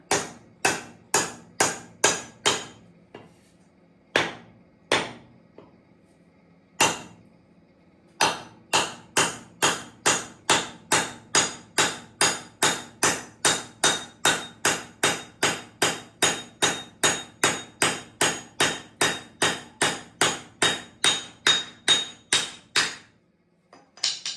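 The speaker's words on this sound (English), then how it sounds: "we're just going to take our hammer and drive this in" A hammer drives a wooden shim into a hatchet handle, sharp metallic blows in a long steady series, with a few short pauses before the rhythm settles into quick regular hits.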